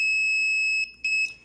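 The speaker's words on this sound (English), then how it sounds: "then the buzzer will sound, no matter what color" An electronic buzzer in a distance sensor project sounds as a steady, piercing tone that cuts off briefly near the end, then resumes in a short burst before fading.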